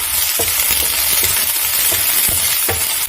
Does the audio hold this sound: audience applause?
no